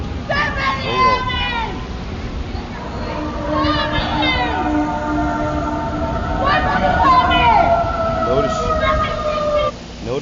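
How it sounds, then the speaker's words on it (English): Wailing police and ambulance sirens sweep up and down in the distance, several overlapping, beneath a steady low rumble of traffic. "Notice you hear the sirens in the back of the police or the ambulance"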